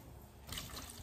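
A small amount of water is poured onto seedling cells in a seed-starting tray, a faint, brief trickle that brightens midway through a quiet second.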